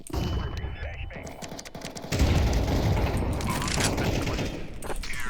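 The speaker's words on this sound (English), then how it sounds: "Throwing a flashbang." A flashbang grenade goes off amid busy Counter-Strike 2 gunfire, a dense burst of bangs and rattling shots that swells loud around midway and holds as a sustained clatter.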